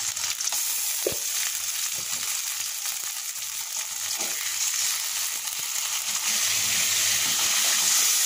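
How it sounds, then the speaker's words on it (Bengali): A ginger, garlic, coriander and cumin spice paste fries in hot oil with a steady, close sizzle and hiss, broken by a few scraping stirs of the spatula. "মশলা কষা হয়ে গিয়েছে, তেল বেরিয়ে আসছে"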